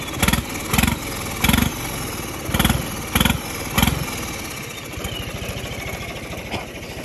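A tractor engine fitted with a new turbo runs close by with a deep diesel chug, punctuated by six loud rhythmic revving bursts before settling into a steadier idle.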